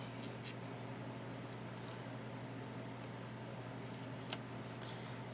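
Scissors snip through paper while a paper bag mini album is being made, a few faint, sparse cuts over a steady low room hum.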